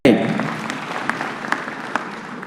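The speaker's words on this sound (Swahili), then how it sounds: "Makofi kwa BBI." A large crowd at the BBI report launch at the Bomas of Kenya breaks into applause, a busy ripple of clapping with scattered sharper claps that carries on after a brief voice at the start.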